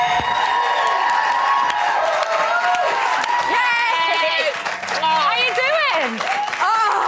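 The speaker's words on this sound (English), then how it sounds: "let's give a huge round of applause for our third-placed housemate" Studio audience at a Celebrity Big Brother UK live final erupts in loud applause and cheering with whoops and shouts, a dense crowd roar continuing throughout while a voice rises over it.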